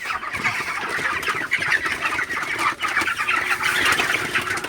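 Many broiler chickens cluck and murmur together in a busy, continuous flock chorus, fairly close and loud, with no talking.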